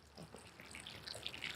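Water from a can trickles and patters onto the soil around a newly transplanted Roma tomato plant in a container, faint and close, with a soft irregular splashing.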